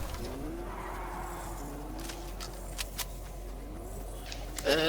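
A car in the video game Fortnite drives and skids, its engine drone rising and falling with a few short tire squeals and a sharp burst at the end.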